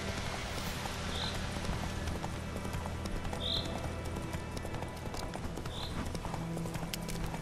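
In The Witcher 3 video game, a horse's hooves beat a rapid, even clip-clop rhythm throughout as it gallops, steady and moderately loud, with a few faint whistling tones over it.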